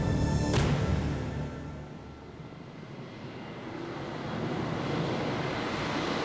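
A MiG-25 Foxbat jet interceptor roars steadily with a broad, rushing engine noise that swells and ebbs slightly, sustained and fairly loud throughout with no talking.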